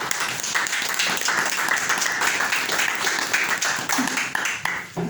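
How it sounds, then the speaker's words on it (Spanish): Sustained applause from a crowd, dense clapping filling the whole stretch at a steady loudness with a few voices mixed in. "Denle un aplauso a Jesucristo"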